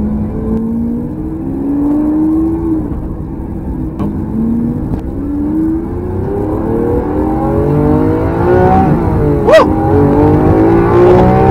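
A Lamborghini Aventador SV on stock exhaust accelerates hard through several gears, its engine note climbing and dropping with each shift, heard loud and steady from inside or close to the car.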